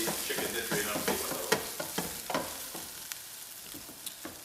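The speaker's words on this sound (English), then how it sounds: "Now some chili flakes are frying the oil" Chicken and chili flakes fry in hot oil for Trinidad-style Korean fried chicken, a soft steady sizzle broken by scattered pops and stirring clinks, faint and close with no talking.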